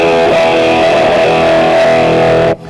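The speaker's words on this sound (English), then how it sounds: "if I want to go a bit heavier, I can add a overdrive boost" An electric guitar plays a distorted crunch tone pushed by an overdrive boost, a loud, saturated sustained chord ringing close up and then stopping sharply just before the end.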